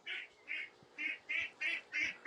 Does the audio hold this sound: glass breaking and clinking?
no